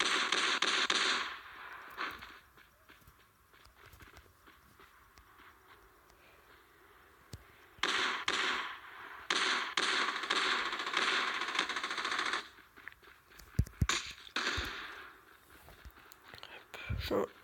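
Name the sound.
gunfire in the video game Rules of Survival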